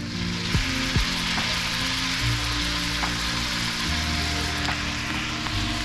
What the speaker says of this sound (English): That butter slowly melting with the garlic in it will pull all the garlic flavor right into the butter.